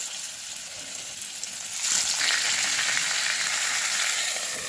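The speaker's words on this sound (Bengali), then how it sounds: "ঢেকে 2 মিনিট মতো ভেজে নেব" Pangas fish fillets hit a little oil in a kadai partway through, and a quiet background gives way to a loud, steady sizzle that holds to the end.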